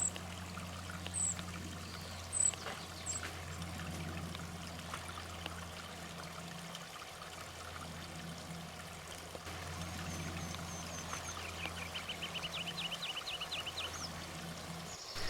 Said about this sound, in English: And the creek is right here.